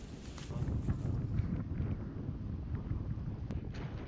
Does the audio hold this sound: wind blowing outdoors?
yes